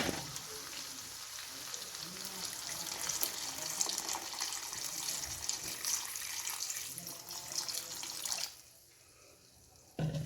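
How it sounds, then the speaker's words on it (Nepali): Water is poured into chicken curry for gravy, a continuous splashing gush over the simmering pot that stops abruptly near the end, leaving a short lull. "अब हामी यसलाई चलाएर एकचोटि यसो पानी हाल्छौँ ग्रेभीको लागि, करीको लागि।"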